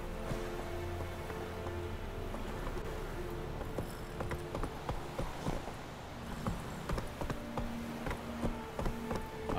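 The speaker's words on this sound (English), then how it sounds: "I will take my horse up these stairs and you're gonna like it." In The Witcher 3 video game, a horse's hooves clop up a flight of stone stairs. The light, irregular taps sit over a quiet ambient background.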